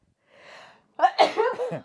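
A single close, sharp sneeze preceded by a brief soft inhale, with no talking.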